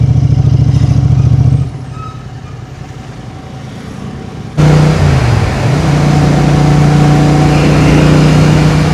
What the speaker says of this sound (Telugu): పెద్ద పెద్ద లారీలు